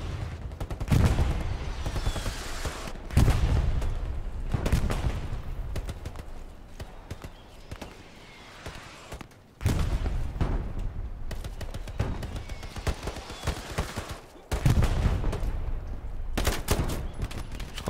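Repeated bursts of gunfire in the WWII shooter Hell Let Loose, loud close volleys and rattling fire recurring in several waves across the clip, with distant shots and a brief lull between them.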